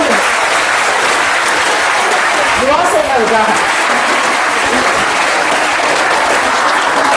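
Children applauding together, a steady dense wash of clapping that fills the whole stretch at a loud, even level, with a brief voice rising over it midway.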